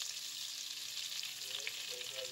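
Hot oil and butter sizzle and crackle steadily in a pot, a soft, even frying hiss with no voices.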